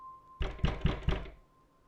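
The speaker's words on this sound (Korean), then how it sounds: "나무로 만들어진 아주 오래되어 보이는 문을 노크했습니다" Four firm knocks on an old wooden door at an abandoned house in the mountains, evenly spaced and close, each a hollow thud, with a faint steady hum before and after.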